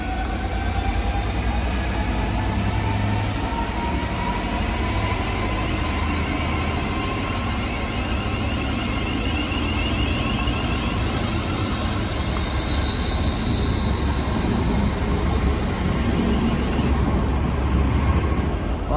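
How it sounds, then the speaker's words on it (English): A Rugeley passenger train on the Chase Line rolls past close by in September 2022, a steady loud rumble of wheels and rail noise sustained throughout with faint squeals above. "This is the Rugeley train."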